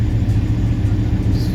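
A 1998 Chevy K1500 pickup with a bad water pump idles high, giving a steady low engine rumble close by with no talk.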